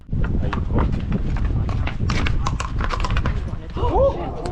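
Akhal-Teke horses in Turkmenistan move about, their hoofbeats thudding quickly and close by while a person talks over them, with a brief whinny near the end.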